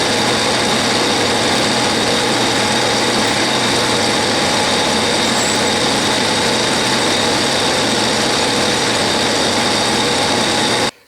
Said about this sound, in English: Now I will center drill, and then a 5/32, which is the tap drill